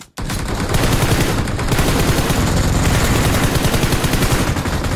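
Dense, sustained automatic gunfire rattles loudly and continuously from a video game, with rapid bursts layered together and no pauses.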